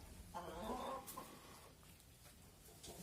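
A hen gives a short burst of low clucking near the start, then quieter scattered rustling and faint clucks follow.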